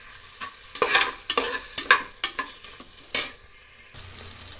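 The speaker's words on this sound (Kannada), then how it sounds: "ಇಷ್ಟನ್ನು ನಾವು ಫ್ರೈ ಮಾಡೋಣ." Mustard seeds, lengthwise-cut onion and three byadgi chilies fry in a pan for bisi bele bath, a spatula scraping and stirring in loud irregular bursts over a crackling sizzle that swells into a steady hiss at the end.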